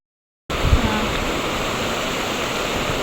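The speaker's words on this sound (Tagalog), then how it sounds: "malakas po ang agos ng tubig" Strong river current rushing steadily, a loud broadband roar of flowing water that starts abruptly and holds constant, close by, with a brief low thump near the start and no talking.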